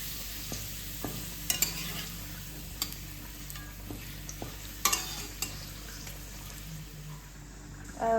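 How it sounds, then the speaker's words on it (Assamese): Papad frying in oil gives a soft, continuous sizzle, broken by sharp clicks and scrapes from a stirring utensil, heard up close with a brief louder clatter at the end. "আমাৰ পাপৰখিনি ফ্ৰাই কৰা হৈ গ'ল এনেকৈ ফ্ৰাই কৰি ল'ব লাগিব তেলত"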